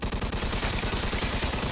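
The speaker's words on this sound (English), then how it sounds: "This guy with his stupid shotgun back here." Gunfire in Mafia 2 Definitive Edition from an enemy with a shotgun, a loud rapid string of booming shots in quick succession, continuous and close, without talk.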